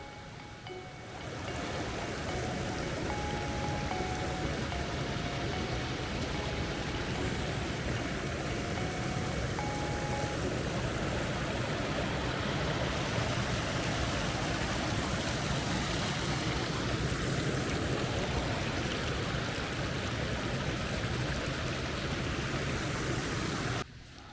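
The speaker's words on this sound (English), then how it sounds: "Kinder River running behind me." The Kinder River runs through woodland on Kinder Scout as a steady, broad rushing of water that stays constant and fairly loud throughout, with no voices over it.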